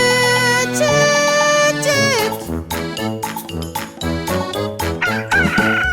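A chicken crows loudly at the start, followed by bright, bouncy children's song music with jingling notes.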